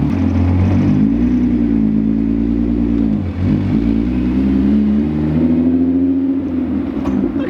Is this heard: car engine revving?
yes